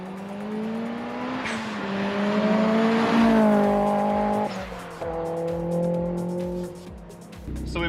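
A turbocharged Mazda Miata accelerates hard through a full pull, its engine note climbing steadily in pitch with a brief shift break, loud and close with no talking.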